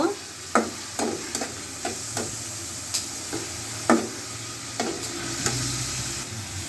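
Onions fry in a pan with a soft continuous sizzle, punctuated by about a dozen sharp scraping stirs of a spatula, each a short distinct stroke at irregular intervals, close and clear with no talking.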